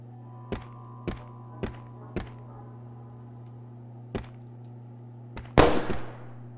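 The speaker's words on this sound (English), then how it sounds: "There's a gunshot." Gunshots from the video game Crow Country ring out as a series of sharp, separate cracks at uneven intervals, followed by a louder, broader burst near the end over a steady low hum.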